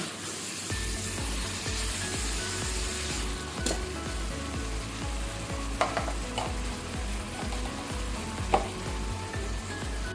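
Grated medium tomatoes hitting a hot pan for keema and cauliflower, a steady close sizzle with bursts of spitting and occasional stirring knocks against the pan, no voices.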